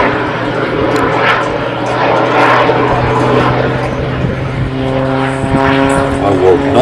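Pitts Special aerobatic biplane performing at the Midlands Air Festival, a steady propeller-engine drone with rising and falling pitch throughout, loud and continuous with crowd ambience underneath.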